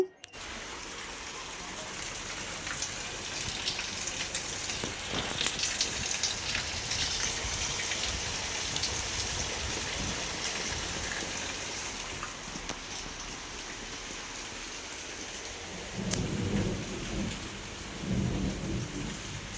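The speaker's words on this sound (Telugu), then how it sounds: "మీకు చూపిస్తాను అసలు ఎంత పెద్ద వర్షం పడుతుందో" Heavy rain pours down steadily in a dense, hissing roar, with low rumbles of thunder swelling briefly toward the end.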